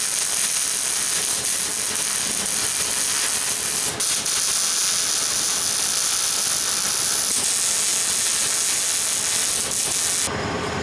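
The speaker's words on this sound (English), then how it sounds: "I'm going to weld the washers on first" Arc from a stick welder fusing steel washers onto a stove insert frame, a loud, steady crackling hiss that runs unbroken for about ten seconds before cutting off abruptly near the end.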